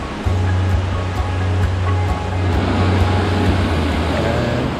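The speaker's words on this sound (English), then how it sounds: "And this river is pretty rowdy." A swollen, rowdy mountain river after overnight rain in the Caucasus backcountry rushes in a steady, loud broadband roar that fills the whole stretch, with a low hum running beneath it.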